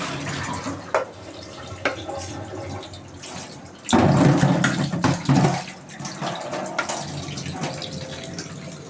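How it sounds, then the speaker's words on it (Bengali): Red leafy greens are rinsed by hand in water, with gentle sloshing and dripping that swells into a louder splashing rush for a couple of seconds midway before settling back to soft trickles. "শাকটাকে আবার আমি একটু ভালো করে ধুয়ে নেব"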